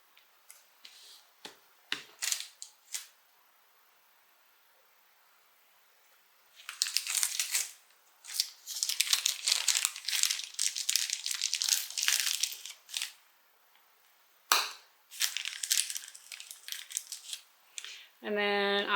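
Scissors cut a hole in Decovil Heavy interfacing while making a bag, with a few sharp snips, then long runs of crisp crinkly cutting and rustling, close and fairly loud, and a voice briefly at the end.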